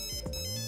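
A mobile phone ringtone plays a short, clear electronic melody, moderately loud and alone, heard indoors during a game of dice.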